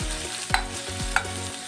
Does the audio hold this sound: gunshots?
no